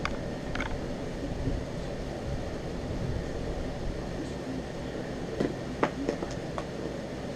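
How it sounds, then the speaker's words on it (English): An outdoor air conditioner runs beside a spot where fishing rigs are set up, giving a steady, fairly quiet broadband hum that stays even throughout, with a few faint clicks and taps near the end. "I cannot sit out here without that air conditioner on."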